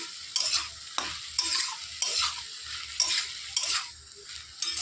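Leafy greens with turmeric and two slit green chillies fry in a pan, with a steady sizzle broken by a spoon scraping and stirring about once a second.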